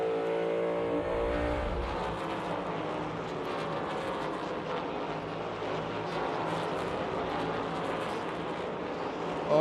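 NASCAR stock car at speed in practice, captured from the onboard camera: a loud, continuous engine drone with fluttering harmonics and wind roar, holding steady throughout without talk.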